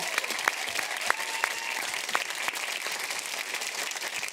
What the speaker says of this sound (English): can we give a round of applause for one more time?